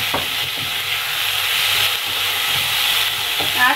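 Tomatoes and green chillies fry with onions for a south Indian drumstick sambar, a loud, steady close sizzle and hiss with faint stirring underneath throughout.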